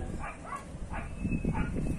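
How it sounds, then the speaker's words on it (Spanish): A dog outdoors barking and yipping in a few short, separate bursts of moderate loudness over steady background noise. "Vea, perro."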